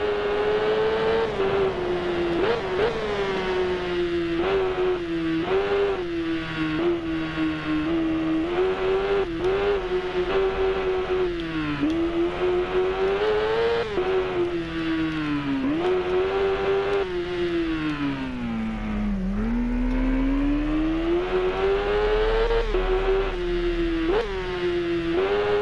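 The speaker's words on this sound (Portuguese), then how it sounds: "Vou deixar um pouquinho o ronco do motor para vocês curtirem aí." Kawasaki ZX10R sport motorcycle engine, a steady loud close roar whose pitch rises and falls with the revs for the whole stretch, with no talking.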